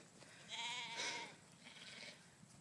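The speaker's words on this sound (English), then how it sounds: "So this sheep out here is a new sheep." Sheep bleating outdoors in a field by a gate, with pony nearby; one clear harmonic bleat swelling around the middle, followed by a quieter bleat, no talk.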